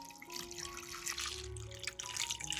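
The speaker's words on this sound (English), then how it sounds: "Then pour in clean water." Clean water pours steadily into a bowl of okra already dosed with salt and baking soda, a continuous close splashing and trickling that runs the whole time with no talk.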